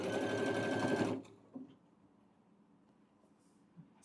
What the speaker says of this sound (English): Let me take a few more stitches.